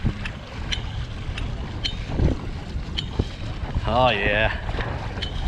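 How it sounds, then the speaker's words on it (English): A Native Titan 10.5 kayak is paddled against the wind on open water, with steady wind buffeting the microphone, faint water sloshing and a few paddle strokes; someone speaks briefly. "Much better in paddling against the wind."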